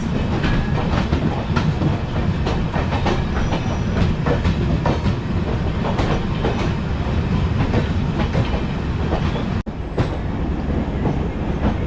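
Riding inside the general coach of a Jalandhar intercity passenger train, the wheels keep up a loud, continuous rumble with rhythmic clickety-clack over the rail joints. A brief dropout comes near the end.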